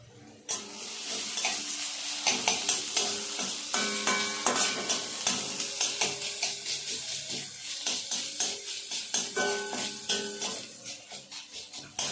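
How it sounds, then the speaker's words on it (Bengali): Garlic frying in mustard oil in a pan, with a steady sizzle and repeated rhythmic stirring and scraping clinks running throughout, close and fairly loud. "1 চামচের মতো সর্ষের তেল দিলাম, দিয়ে রসুনটা লাল করে নেব।"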